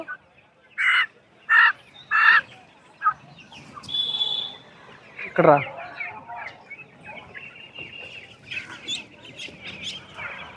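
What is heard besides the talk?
Giriraja chickens clucking at a market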